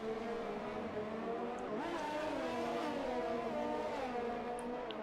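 A Haas Formula 1 car in a racing video game on the streets of Monaco, its engine holding a steady, high, whining drone that rises and falls gently as it follows closely behind another car.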